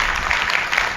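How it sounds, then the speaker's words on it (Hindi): A seated crowd at a live Arya Samaj religious discourse breaks into brief, dense applause, a steady rush of many hands clapping together for about a second. "इनकी माता जी के लिए जोरदार तालियां बजाइए"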